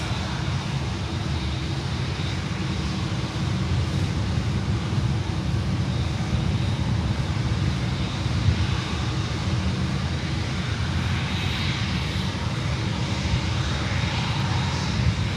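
Heavy USAF C-17 military transport departing runway 9 at Miami, a loud continuous jet roar with deep low rumble sustained steadily and close throughout, no voices.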